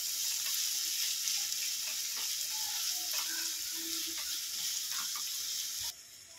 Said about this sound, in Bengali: একসঙ্গে সব ভেজে নেব। ভালো করে সবগুলো একটু ভেজে নেব।